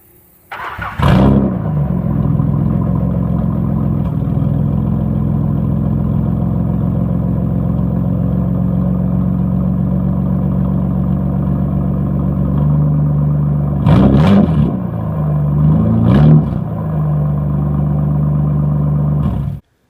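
A Nissan S12 engine cranks and catches on a cold start, then idles with a steady rumble, rising briefly in two quick revs to about 1,000 RPM near the end; nobody speaks.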